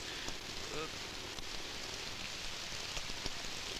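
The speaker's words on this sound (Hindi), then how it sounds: "पानी बरस रहा है" Rain falling on a city street in Bombay, a steady soft hiss of drops with faint patter, low and even throughout, with voices murmuring quietly underneath.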